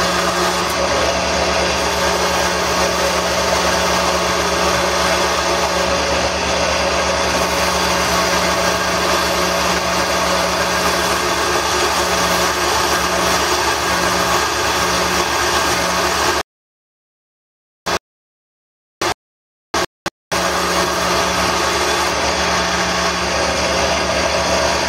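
Wooden tool handle spinning on a running lathe while being sanded with the finest grit, a steady loud motor whine and rushing abrasion that drops out briefly mid-way with a few sharp clicks, then resumes.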